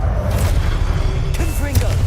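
An Expelliarmus spell is cast in Hogwarts Legacy, a burst of magical game effects with low rumbling booms and brief whooshing, chirping tones layered over continuous in-game sound.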